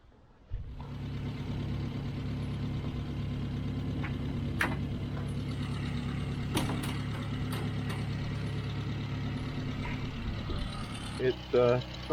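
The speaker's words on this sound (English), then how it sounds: "It's a side valve engine, 8 horsepower" A Morris car's 8 horsepower side valve engine starts up and idles steadily nearby with a low, even hum, and a few faint clicks and knocks ride over it near the end.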